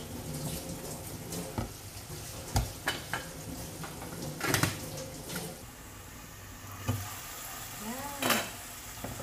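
Eggplant omelette with ground pork frying in a pan gives a faint sizzle broken by occasional clinks and scraping stirs, with a tap running briefly near the end.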